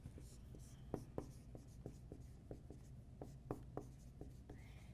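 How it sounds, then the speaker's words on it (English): A marker squeaks and taps across a classroom board in short, rhythmic strokes while a math formula is written out, close but quiet, with faint whispering in the background. "Let me write out the formula."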